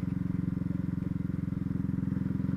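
A 2019 Honda CB Twister motorcycle rides slowly along a dry dirt road, its engine putting out a steady, close, rhythmic putter throughout, with no talk over it.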